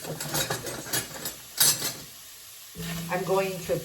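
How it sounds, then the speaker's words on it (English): Chopped onion sautéing in a hot pan with broth instead of oil for a vegan stew, giving a steady close sizzle and stirring with a few utensil scrapes, a brief quiet gap, then a renewed louder sizzle. "put the onion into a hot pan"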